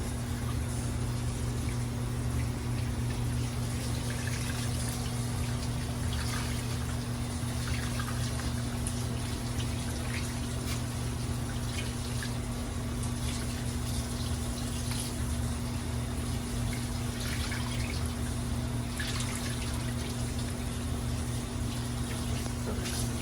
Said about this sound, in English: You gotta rinse out the sock until it's no more until it's like no more